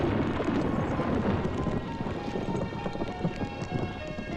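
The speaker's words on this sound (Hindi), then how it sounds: "कमाल का तूफान आया यहाँ।" Heavy rain pours steadily through a thunderstorm in a Hindi movie scene, a dense close hiss with scattered sharp patters and low rumbling underneath, with no voices.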